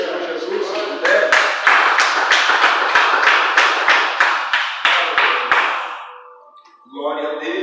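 A church congregation claps along in worship with a quick, even, rhythmic beat of many hands that is full and close, then fades out before a voice comes in near the end.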